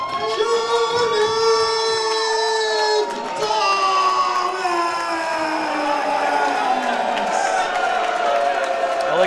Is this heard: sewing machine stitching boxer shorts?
no